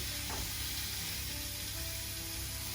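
Cold smoked, dry cured, slightly thick-cut streaky bacon sizzles in a pan of sausage fat, a steady close frying hiss running without pause and with no talk over it.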